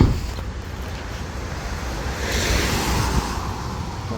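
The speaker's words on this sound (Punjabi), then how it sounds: "ਹਵਾ ਚੱਲ ਪਈ ਠੰਡੀ ਬਹੁਤ" A cold wind blows steadily outdoors past flowering trees, a broad rushing roar buffeting the microphone and swelling slightly toward the end, with no voices.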